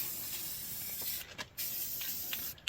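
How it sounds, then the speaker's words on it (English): Rust-Oleum spray paint hissing from a can onto the back of a fabricated steel mounting bracket for a project car, a steady close airy spray with a couple of short breaks. "Rust-Oleum specifically to put on the back side of this thing so it doesn't rust."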